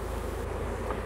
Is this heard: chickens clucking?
no